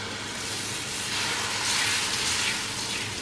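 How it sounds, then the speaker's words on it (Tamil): Ragi dosa batter sizzles on a hot dosa griddle with a steady, soft hiss that swells slightly midway, heard alone with no talk. "இப்போ நம்ம தோசை ஊற்றிடலாம்."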